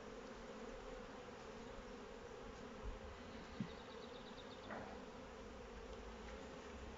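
A dense, steady buzzing of many honey bees at a hive fills the air during a honey harvest, continuous and close, with a few brief knocks partway through.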